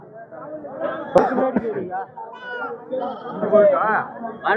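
Young goat kids bleat repeatedly at the Ranipet goat market, sharp cries rising among crowd chatter as people talk over them.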